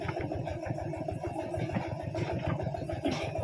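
A tractor engine runs at a steady idle, a low chugging clatter with a fast even rhythm, close and continuous, alone without talk.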